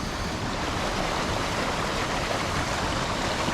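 A river rushing near Dodiongan Falls, a steady broadband roar of flowing water that stays loud and even throughout with no voices.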